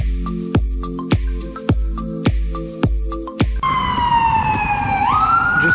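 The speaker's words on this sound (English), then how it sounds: "Just surrounded by sirens today." An emergency vehicle siren on a Seattle street rises and holds a steady wail after a run of regular thumping beats, loud and close, with no talking.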